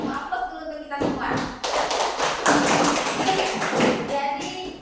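A classroom of children bursts into applause, a dense patter of small hands clapping that swells after a moment and carries on for several seconds while an adult voice talks over it.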